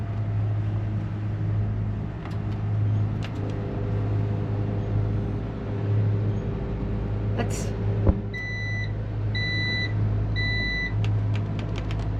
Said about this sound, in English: That's the microwave's working.